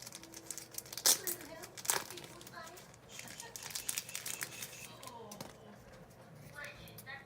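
A wrapped pack of Bowman Dodgers baseball cards is torn open by hand, with sharp crinkling rips and rustling of the wrapper close to the mic, a couple of louder tears early on amid soft background sounds.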